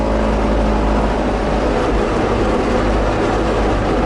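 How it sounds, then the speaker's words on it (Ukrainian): A tractor engine runs during silage mowing in a field, a loud, steady low drone with broadband rumble that holds without a break and has no voices over it. "Другий трактор, другий."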